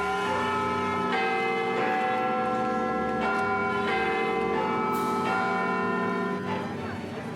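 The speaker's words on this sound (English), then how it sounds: "In addition to Big Ben, there are 4 other smaller bells that chime every day on the hour." The smaller bells of the Big Ben clock tower chime a melody on the hour: a series of resonant bell strikes in a slow, stepped rhythm, each ringing into the next, loud and sustained.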